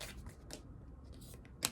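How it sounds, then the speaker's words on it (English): Soft riffling and flicking of a brand-new tarot deck being shuffled up close, in short bursts with a sharper snap at the end. "This is a brand new deck, so it's I'm just getting into the shuffling"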